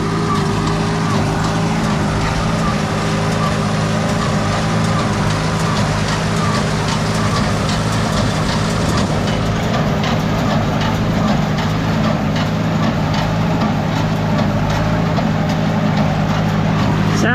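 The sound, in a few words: Case 730 tractor running hay baler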